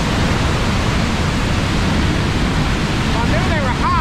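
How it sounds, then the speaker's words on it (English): Muddy floodwater rushing out through open flood gates after heavy rain, a loud steady roar of broadband noise that continues unbroken throughout. "There was a lot of water coming out of there."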